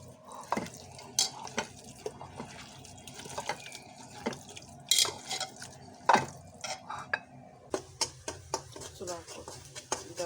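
Mutton being worked by hand with mustard oil in a bowl, giving wet squelching and slapping with clinks of dishes, irregular and close, while a person talks over it.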